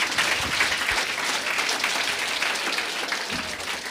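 Dense, steady applause from a church congregation, sustained at an even level for the whole stretch with no voices rising above it.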